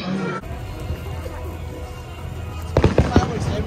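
Fireworks pop and crackle in a quick cluster toward the end at Epcot, over a steady rumble of outdoor crowd noise.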